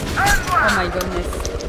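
Gunfire in Metro: Last Light rattles in a dense volley of shots and impacts, running under a voice with tonal game sounds mixed in.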